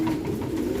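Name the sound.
caged birds cooing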